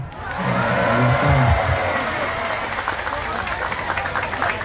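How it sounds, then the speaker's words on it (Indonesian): At a religious gathering in Zhongli, Taiwan, a crowd breaks into applause with some cheering, while a voice talks briefly over the start and clapping continues steadily to the end. "Berikan tepuk tangan, boleh."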